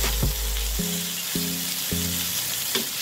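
Chopped tomato frying in a pan with browned onions for a mutton curry, giving a steady loud sizzle with a few stirring clunks throughout, no talking.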